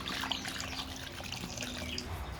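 Carrots are washed under a running tap, producing a steady splashing trickle of water into a sink with faint rubbing, fairly quiet and continuous.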